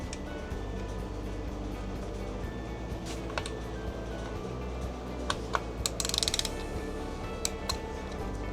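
A ratchet with an extension backs a bolt off during a radiator guard install on a 2024 KTM 450 dirt bike: rapid continuous clicking of the pawl, close and steady, broken by brief pauses and a few sharper metallic taps.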